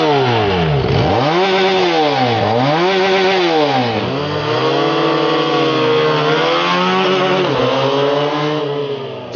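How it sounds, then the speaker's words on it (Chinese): A Harley-Davidson X350 with a 350cc parallel-twin engine revs repeatedly, its loud, close note climbing and falling in several sweeps before holding a steady high-revving drone. "一个300cc 两缸车的声音，它这动静都有点4缸的感觉"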